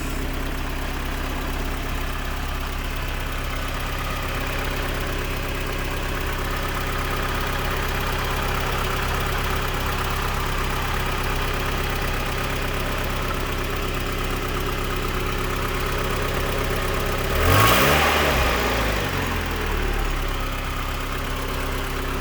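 A 1992 Mazda Miata engine, just brought back after a fuel pump relay repair, idles steadily and close, then gives one brief rev near the end before settling back to idle.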